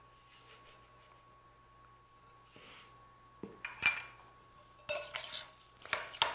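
Brown sugar, Worcestershire sauce and salt being mixed in a bowl: quiet scraping and a few clinks of a utensil against the bowl, growing busier toward the end, with no talking.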